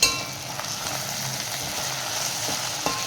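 Carrots and beans sautéing in oil with salt for a vegetable biryani, a steady close sizzle with light scraping stirs and a couple of sharp clinks near the end.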